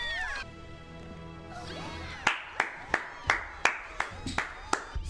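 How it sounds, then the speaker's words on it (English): Applause after a play in a My Little Pony cartoon episode: a run of about nine slow, evenly spaced claps, fairly close and distinct, following a stretch of sustained musical tones. "Standing ovation."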